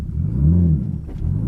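Nissan 200SX with a swapped RB25 engine pulling away from a standstill: a deep, loud, close rumble that swells and dips over a short moment, with no talking.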